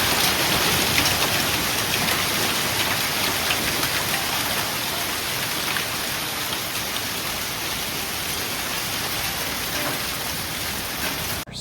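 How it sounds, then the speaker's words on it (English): Heavy rainstorm pouring steadily after a burst of nickel-size hail and powerful winds, a dense, even roar of rain on surfaces holding loud and constant throughout with no voices. "storm just blew through, and I'll show you some clips of it"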